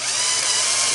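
A power drill bores through the metal of a Dyna-Glo vertical charcoal smoker to make a bolt hole, a brief close high-pitched whine with no talk.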